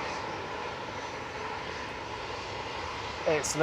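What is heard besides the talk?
EasyJet A320 jet airliner at Manchester Airport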